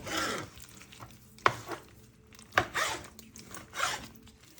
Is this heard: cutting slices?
yes